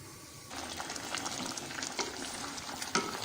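Tomatoes boiling in two glasses of water in a pot on the stove, a steady close bubbling and sizzling hiss with small pops and stirring clinks, no voices.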